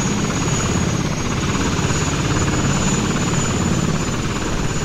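A helicopter's steady rotor thrum and engine whine in the game Desert Combat, loud and continuous throughout with no letup.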